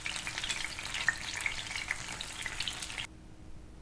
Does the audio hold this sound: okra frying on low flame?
yes